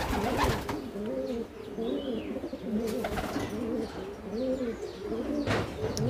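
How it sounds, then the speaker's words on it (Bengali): Young pigeons cooing repeatedly at a loft trap door, soft rolling coos close by with a few faint chirps in between. "আজকে প্রথম ট্রেপ ডোরের সামনে এসে কবুতরগুলোকে রাখলাম, যাতে করে এখান থেকে আকাশটা দেখতে পারে।"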